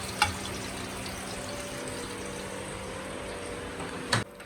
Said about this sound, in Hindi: साथ साथ हुसैन मेरी एक चीज़ फ्राई कर रहा है जिसको हम कहते हैं भेजा।